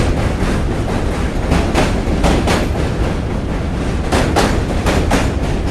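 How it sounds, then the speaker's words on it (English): A subway train passing near a bridge, loud and close, with a continuous rumble and repeated clickety-clack wheel beats over the tracks. "Where are all these subways going?"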